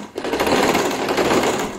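A sewing machine stitches a recycled denim jeans bag, a fast, steady close-up buzz of needle strokes running without a break.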